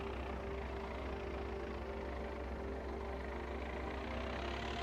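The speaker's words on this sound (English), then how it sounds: "Drive this down the road. This tractor" A tractor fitted with a front weight rolling down a road in Farming Simulator 25, a steady low engine drone and hum holding constant throughout with no talk.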